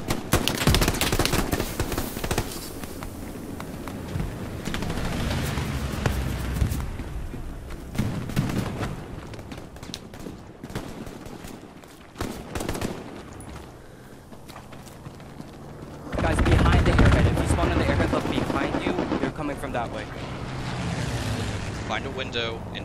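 Strafing run from an aircraft in the World War II shooter Hell Let Loose, with bursts of loud rapid machine-gun fire and impacts. The bursts come in waves with quieter gaps between them, and a player talks over parts of it.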